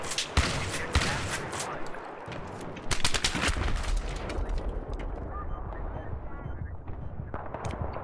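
Shotgun blasts and other gunfire in Battlefield 3 multiplayer on a Back to Karkand map, several loud sharp reports scattered over a busy battle din.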